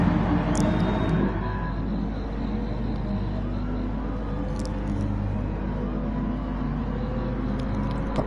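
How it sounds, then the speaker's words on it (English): A race car in a PS4 racing game drops back through its gearbox, the engine rumbling low and steady with faint pitch shifts, while a commentator talks over it. "Back through the gearbox once again."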